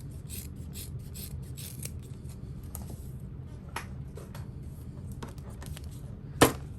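Scissors trimming down fabric corners on a small parachute knapsack sewing project, faint close snips and rasping cloth rubs in an irregular rhythm, with one sharper click near the end and no talking.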